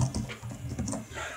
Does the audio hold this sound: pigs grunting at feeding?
no